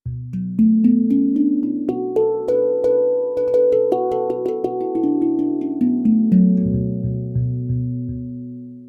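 A bright, bell-like Neotone plays a flowing sequence of notes up and down a B Amara scale, each tone ringing and overlapping before fading.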